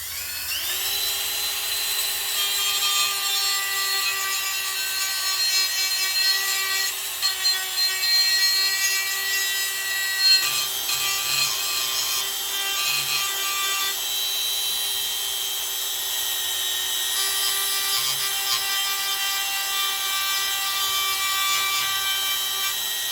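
A rotary tool fitted with a burr grinds notches into a wooden wand, giving a steady high-pitched whine with scraping changes in tone as the burr bites into the wood. It runs loud and close for the whole stretch, with no talk.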